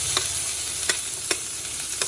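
Onions fry in a pan with a constant close sizzle, broken by four evenly spaced spatula scrapes or taps; no speech.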